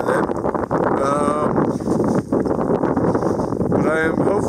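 Strong wind buffets the microphone at the South Pole, a loud, continuous roar and rumble with brief gusting dips, filling the whole clip with no clear voice over it.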